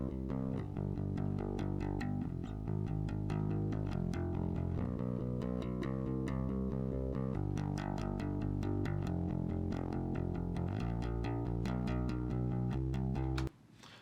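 An Ibanez six-string bass, played through its neck pickup and recorded straight into an interface with no processing, runs a steady line of clean, plucked notes. The low tones are continuous and upfront, then stop abruptly just before the end.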